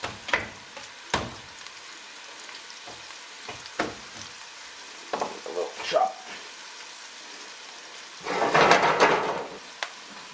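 Garlic, scallion and thyme fry in a pot with scattered stirring scrapes and knocks, then a louder burst of sizzling near the end as something is added; no one speaks.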